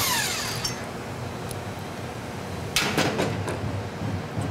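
A tool works loose the impeller bolt on a Taco FI circulator pump, with faint metallic clinks and a sharp scraping click partway through, heard close over a low steady background hum.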